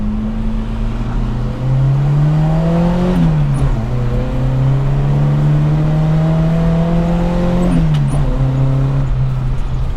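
A Suzuki Jimny Katana fitted with a new camshaft revs loudly and climbs through the gears on the road. The engine note rises steadily, drops briefly at each of two gear changes, then pulls up again, with no talk over it.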